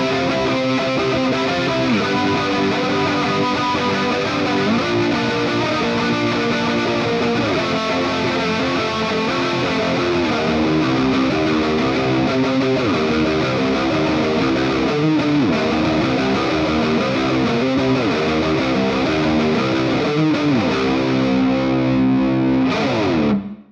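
Heavily distorted electric guitar through a Quad Cortex amp-modeler preset chugs through a grungy rhythm riff, loud and sustained, then cuts off abruptly at the end.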